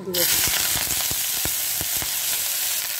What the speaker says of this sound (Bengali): এইবার আমি এই তেলে এই যে ফুলকপির পাতাগুলো এগুলো